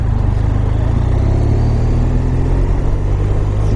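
BMW R1200RS boxer-twin motorcycle engine running loud and close, a steady throaty rumble with a slight rising rev tone, heard alone without talk, snowy winter setting.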